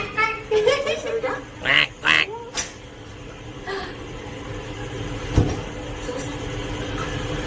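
A person's voice imitates a duck, giving several short nasal quacks in quick succession near the start, followed by quieter background noise and a brief knock.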